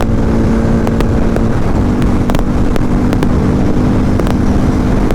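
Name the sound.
KTM Duke 250 and Harley-Davidson X440 motorcycles accelerating in drag race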